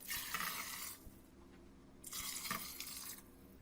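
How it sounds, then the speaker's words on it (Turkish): Water pours into a cooking pot of plums for homemade plum juice in two steady, splashy bursts separated by a short pause, close and moderately loud. "Üzerini geçecek kadar su ekliyorum."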